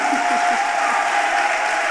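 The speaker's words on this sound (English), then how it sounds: "Let's appreciate them with a clap." An audience at an annual general meeting and scientific conference gives a standing round of applause. Steady, dense, continuous clapping stays loud for the whole short stretch.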